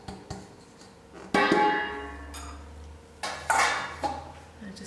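A spoon scraping and clinking in a bowl while desiccated coconut and icing sugar are mixed for no-cook coconut ice, giving a few sharp close knocks between softer stirring scrapes.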